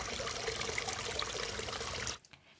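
Water pours steadily through an aquarium filter, a constant close rushing and trickling that cuts off abruptly near the end, leaving a few faint drips.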